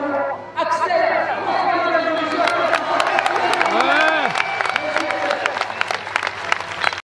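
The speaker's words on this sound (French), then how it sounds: "je vais vous demander de faire un tournoi d'applaudissements pour Axel" An audience at a motorsport weekend event applauds for Axel, dense sustained clapping with cheers and crowd chatter, loud and close, fading out after about seven seconds.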